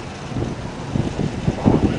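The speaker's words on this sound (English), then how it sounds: "it's windy today" Steady outdoor wind roars across the microphone on a breezy day near a stock tank, a continuous low rumble with gusty swells that grow stronger toward the end, with no talking.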